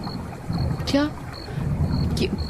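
A boat crossing the Kishnoi river, heard as a steady low engine or hull rumble with wind and water noise and a few brief higher tonal bursts throughout.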